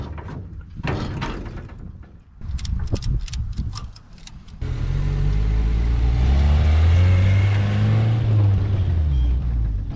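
1979 Chevy LUV mini truck with a 1.8 engine: knocks and clunks at first, then the engine revs up and the truck pulls away, a loud, close drone with rising and falling pitch.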